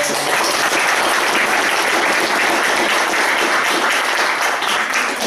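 Loud, dense applause from a crowd at a Polish political gathering for a politician of the KORWIN party, a continuous, even roar of clapping holding steady throughout.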